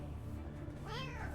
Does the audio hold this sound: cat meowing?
yes